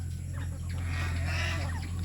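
Native chickens cluck on a small farm, a close flock giving soft overlapping clucks and murmurs over a steady low background hum, with no talk.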